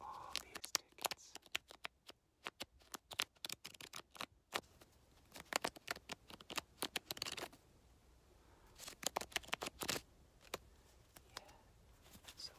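A thick stack of paper baseball tickets shuffled and riffled close up, in bursts of crisp rapid flicking and snapping separated by short quiet gaps.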